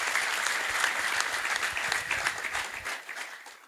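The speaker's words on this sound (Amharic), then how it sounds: "እውነት አጨብጭቡ ለኢየሱስ።" A church congregation claps for Jesus at a worship service, a dense burst of applause that holds steady and then gradually fades, with no talking over it.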